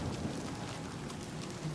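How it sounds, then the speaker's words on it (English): Steady rain with low thunder rumble in a nighttime scene of the video game Oblivion Remastered, a dense continuous wash of falling water heard alone without voices. "If it wasn't for the fact it was raining, it'd be a nice night."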